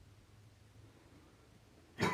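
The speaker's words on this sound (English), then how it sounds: "Me coughing." A single short, sharp cough bursts out near the end, close and loud, after a stretch of quiet room noise in a house during a paranormal investigation.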